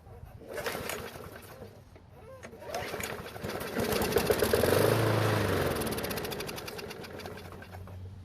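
A small lawn mower engine, fed a little gas straight into its carburetor, catches and runs with a steady buzzing drone that builds and holds for several seconds before easing slightly, fairly close, with no talking.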